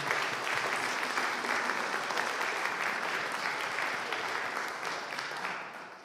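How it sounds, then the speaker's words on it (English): An audience at an evening forum gives a round of applause for Professor McGrath, dense even clapping at moderate level that holds steady and tapers slightly at the end. "Won't you join me in giving a round of applause for Professor McGrath?"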